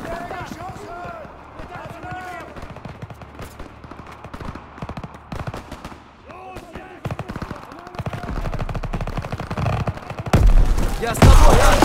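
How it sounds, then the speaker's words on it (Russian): Gunfire in Call of Duty WWII, bursts of rapid automatic shots and single cracks scattered throughout, under game music and voiced in-game chatter, swelling into louder heavy blasts near the end. "Там стрельба! Рискованно!"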